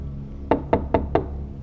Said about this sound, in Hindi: दरवाजा खोलो अजय